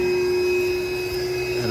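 A vacuum cleaner runs inside a Rheem Prestige AC condenser unit, sucking out sand with a loud, steady whine and a hollow drone, shifting slightly as the nozzle moves near the end.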